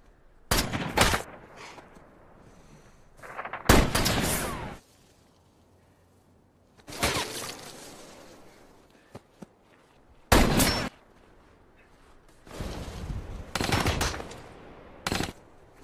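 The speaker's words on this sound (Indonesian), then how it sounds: "Ketika Martin mulai menembaki Charlie dan yang lain" Bursts of automatic gunfire in a film action scene as a gunman opens fire on a group among rocks, several loud volleys separated by quieter pauses, with no talking.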